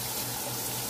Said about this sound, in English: We're going to go finish washing these peas off,